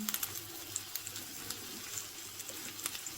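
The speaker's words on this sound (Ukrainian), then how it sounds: "деруни смажимо на соняшниковій олії." Potato pancakes filled with cottage cheese fry in sunflower oil over medium heat, giving a quiet, steady sizzle with small, scattered crackles and pops.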